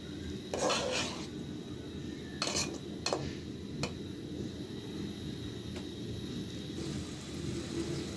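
Green chillies are stirred in a pan, with a few metallic scrapes and clinks of a utensil at the start over a low, steady background hum, then only sparse faint taps.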